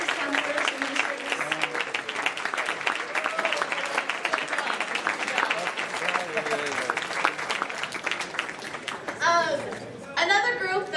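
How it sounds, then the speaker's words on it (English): A crowd at a senior breakfast applauds teachers, counselors and administrators, a dense, sustained clapping lasting about ten seconds, with children's chatter and voices underneath and a short spoken comment near the end. "let's give them a round of applause for supporting you guys for the past 4 years"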